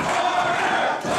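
A wrestling crowd at a live show, a sustained roar of many voices cheering and shouting, steady and fairly loud with no break across the short stretch.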